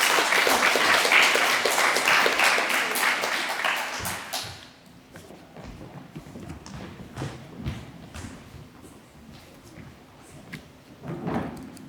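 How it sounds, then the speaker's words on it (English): Applause at a 2021 school graduation and presentation assembly in a hall, dense clapping for the first four seconds that breaks off into scattered claps, taps and thuds. "can we give them all a round of applause"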